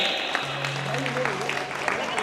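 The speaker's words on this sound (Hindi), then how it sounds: "जोरदार तालियां बजाइए" Audience clapping at a Jain Panchkalyanak ceremony in Vaishali, a steady wash of hands that runs the whole short stretch, blended with a sustained tone and voices.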